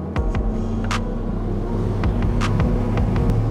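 A fishing boat engine idles steadily on Lake Champlain, a continuous low rumble and hum with a few faint clicks and knocks over it, close and loud throughout.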